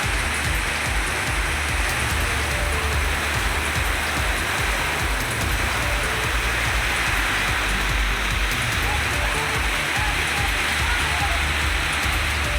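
Moderate rain falls steadily, making an even, close hiss with dense patter on surfaces and no breaks throughout.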